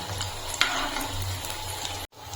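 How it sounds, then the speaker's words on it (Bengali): Steady frying sizzle of food in hot oil, a continuous crackling hiss with a brief clink near the start and a short dropout near the end. "আমি দুটো করে ভেজে নিচ্ছি"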